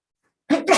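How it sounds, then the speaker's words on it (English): A single short, sharp sneeze bursting out after silence, close and fairly loud, in two quick parts. "gonna sneeze"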